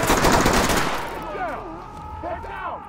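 A rapid burst of gunfire erupts close and loud in the tactical shooter Ready or Not, then cuts off and leaves a fading echo, with voices murmuring beneath it.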